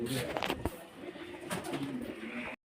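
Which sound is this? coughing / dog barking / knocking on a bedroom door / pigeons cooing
pigeons cooing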